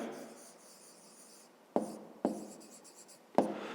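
Pen or pencil writing on paper while working a fifth-grade math exercise, a faint continuous scratch broken by three short louder strokes, close and quiet with no talking.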